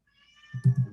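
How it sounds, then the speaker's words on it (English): A pet black cat meows twice in quick succession, close and clear after a brief quiet lead-in, with a faint tonal hum behind. "I hear a kitty in the background. Yep, I, that's my kitty."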